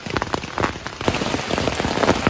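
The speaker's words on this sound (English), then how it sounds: "Found the tent spot and got set up just in time for the rain." Steady rain pattering on a tent on the Appalachian Trail, with dense, continuous drops drumming close by throughout and no voices.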